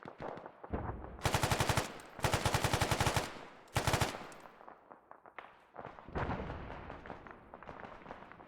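Sustained automatic gunfire in the Arma 3 military game rips out in loud rapid bursts, with several long strings of shots and shorter volleys separated by brief pauses.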